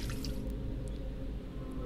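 Water poured out of a container in the video game Still Life, a soft steady trickle with faint drips, quiet and close, with no voices.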